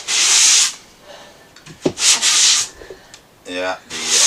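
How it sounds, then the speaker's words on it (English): Back-and-forth sanding along a wooden seam, loud rasping strokes coming in long bursts separated by brief pauses and a few small knocks. "you gotta sand back and forth along that seam"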